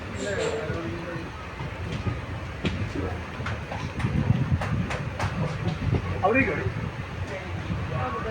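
Rumbling noise with rhythmic clicks and rattles inside a moving carriage of the Ernakulam–Guruvayur Express, running from Edappally toward Kalamassery, fills the clip, while people talk nearby.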